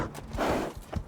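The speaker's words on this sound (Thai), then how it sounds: "เฮ้ยมันขี่ม้าด้วย" Horse hooves clip-clop in Devil May Cry 5 as a mount walks past, a few close, fairly soft hoof strikes over a low rumbling game backdrop.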